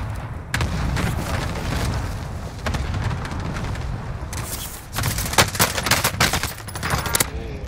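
Rapid bursts of automatic gunfire and booming blasts in a Warzone firefight, dense and continuous with sharp clustered shots toward the end, no talking.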